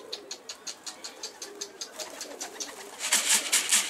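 Pigeons cooing near a coop, a regular series of soft rhythmic coos close by, with brighter flutter-like bursts joining near the end.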